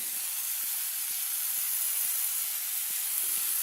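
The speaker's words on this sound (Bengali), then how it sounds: "এখানে আমার আলুর সাথে একদম ঝিঙে ভাজা হয়ে গেছে" Potato and ridge gourd fry in a pan with salt and chopped tomato, producing a steady loud hiss and sizzle with a few faint soft taps underneath.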